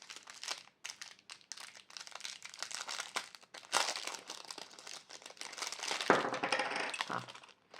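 A package of cross-stitch kit supplies, including a block of wax, is torn and unwrapped up close, with sharp crackling and crinkling plastic in busy, irregular bursts that build louder near the end.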